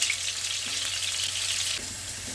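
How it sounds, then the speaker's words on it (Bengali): Potatoes frying in oil on a medium-high flame, a close, steady sizzle that drops slightly quieter near the end, with no talking. "ফ্লেমটা মিডিয়াম টু হাইতে করে আলুটা একটু ভেজে নিই"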